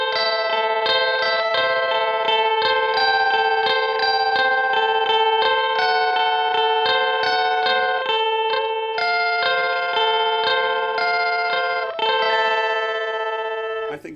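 Electric guitar played through a Matthews Effects The Chemist atomic modulator pedal set to fully effected signal, sustained shimmering notes and chords with octave-like overtones, loud and steady without talk.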